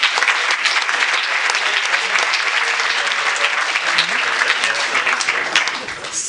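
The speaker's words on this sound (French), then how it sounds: "Vous pouvez les applaudir encore." An audience applauds at the FEFFS 2024 film festival closing ceremony, loud sustained clapping from a large crowd that stays steady and tapers near the end.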